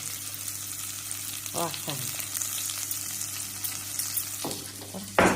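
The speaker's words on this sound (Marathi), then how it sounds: "आता कांदा चांगला भाजायला लागला." Chopped onion fries in a pan for Karnataka-style avarekai pulao, giving a steady close sizzle with stirring scrapes and clinks. A voice briefly says a word near the end.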